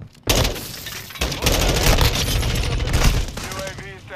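Rapid bursts of gunfire crackle loudly in a first-person shooter game, a dense sustained fusillade close up, with a voice speaking over the shooting.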